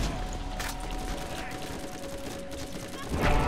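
A sniper rifle fires in a Borderlands shootout. A few sharp, separated cracks stand out over steady background game noise.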